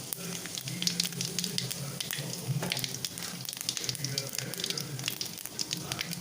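Fennel seeds sizzling in hot oil in a pan, a steady soft crackling hiss with small pops, faint and close throughout.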